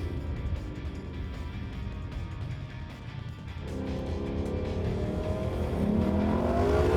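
Aston Martin DB11 V12 Coupe accelerating hard on a test course, a steady engine roar that climbs in pitch and gets louder toward the end, with no talking.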